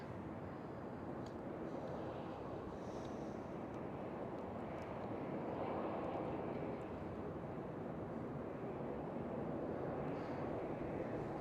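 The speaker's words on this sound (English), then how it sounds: "The air ambulance, lifeliner number 1. Going back to the hospital." The Lifeliner 1 air ambulance flies back to the hospital near Amsterdam's Schiphol, a faint, steady distant engine drone with wind noise and no clear rise or fall.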